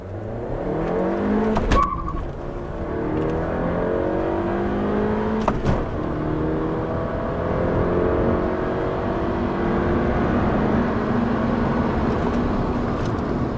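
A stock 2017 Honda Civic EX-T pulls hard on a quarter-mile run, its engine note climbing in repeated rising sweeps through the gears, heard from inside the car with a couple of sharp knocks, steady road roar and no talk.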